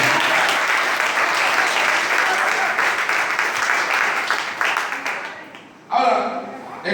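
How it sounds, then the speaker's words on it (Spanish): A church congregation applauds in dense, sustained clapping that fades out over several seconds before a voice speaks over a loudspeaker. "Denle un aplauso grande al Señor."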